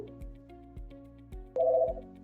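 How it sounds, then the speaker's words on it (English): A mobile phone ringtone plays nearby as a short repeating electronic melody of tonal notes, ending in a louder sustained chime, with no voices over it. "Sorry, that was my phone ringing for some reason."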